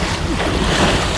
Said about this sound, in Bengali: মারাত্মক ঢেউ